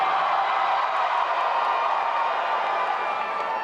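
Audience at a Best of the Bay event in St. Pete cheers for St. Petersburg on an applause meter: a loud, dense, continuous roar of voices and clapping with no break.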